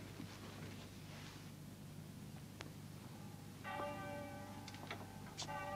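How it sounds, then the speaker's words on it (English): A college bell rings to summon students to hall, its tolls coming through faint and distant in a quiet room, with a couple of clear struck tones near the end. "There's the bell for hall, Mr. Snell, sir."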